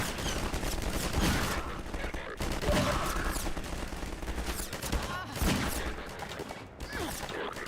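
Rapid gunfire rattles through a firefight in the video game Destiny, dense overlapping shots and bursts running almost without pause, loud and close, with a voice faintly underneath.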